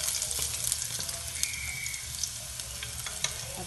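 Garlic sizzles in a tablespoon of oil in a heated pan, a steady quiet frying hiss with small crackles and pops throughout.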